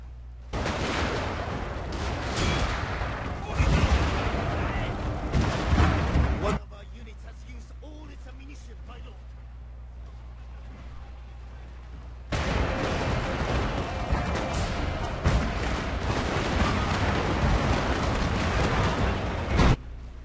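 Massed gunfire from a siege battle in the video game Shogun Total War, 2 vs 2: dense crackling volleys for several seconds, a quieter lull in the middle, then another long sustained burst of rolling shots.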